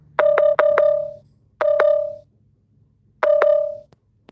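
A malfunctioning phone sounds dialing tones, loud and close: a quick run of four beeps, a pause, a pair of beeps, another pause, then a final pair, with no voices.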